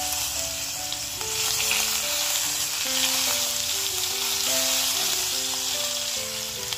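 Mustard seeds, sesame seeds, asafoetida and curry leaves sizzle in hot oil for a tempering. A dense, even frying hiss continues throughout, with a soft melody playing in the background.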